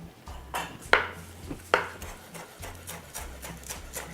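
A knife chops parsley for chimichurri on a board, giving a string of crisp, close knocks. A few sharper hits stand out over a soft low hum.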